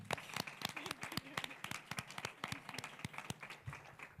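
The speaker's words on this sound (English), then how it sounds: "Let's give her a round of applause." Applause at a joint city council and student senate meeting, a burst of sharp, irregular hand claps from a modest crowd in a room, lasting throughout with a few louder claps standing out.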